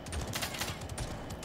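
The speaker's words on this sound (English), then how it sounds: "And I'm definitely approaching gunfire." Rapid gunfire in the battle royale game Realm Royale, a dense run of quick bursts at moderate distance. It stays fairly quiet and continuous, with no voices over it.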